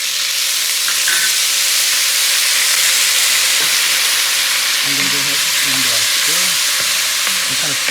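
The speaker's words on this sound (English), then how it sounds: "I'm going to put the onions in to the silver pan. I'm also going to put the garlic in there and the balsamic" Onions, garlic and balsamic sizzle steadily in a silver pan for beef stew, a loud continuous frying hiss with stirring scrapes, and a voice talks briefly over it toward the end.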